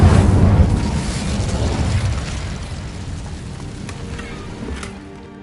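A fire spell cast in the video game Hogwarts Legacy during a fight with a giant spider: a loud, whooshing burst that swells at once, then rolls off into a long crackling rumble that fades over several seconds.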